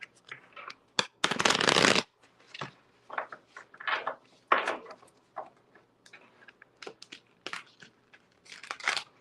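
Tarot cards being shuffled by hand: a loud, dense riffle burst early on, followed by many shorter, softer card flicks and slides scattered throughout, close up in a quiet room.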